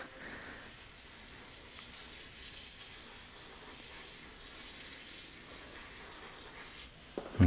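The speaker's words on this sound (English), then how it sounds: "So let's wet the soil." Water poured onto the soil of onion pots, a steady close splashing trickle lasting several seconds before a clunk at the end.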